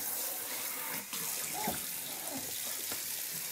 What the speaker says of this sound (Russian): И вот у нас мы выбрали такой кран,